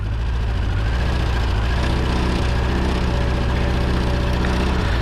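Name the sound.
engine running with sneezing sound from leaking head gaskets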